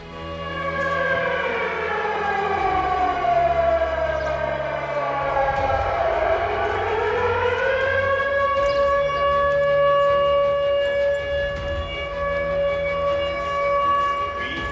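An air raid alert siren in a Ukrainian village wails loudly and steadily, its pitch sweeping down and rising again, then holding a long sustained tone.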